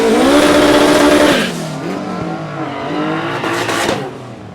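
Drag racing cars at the Vernamfield strip in Clarendon thunder off the line together, a loud high-revving roar with gear-change dips, then settling into a steadier engine drone with tire noise as they pull away.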